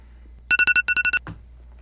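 A phone alarm rings in two quick bursts of short electronic beeps, four then four, close and clear, followed by a soft thump, with no talking.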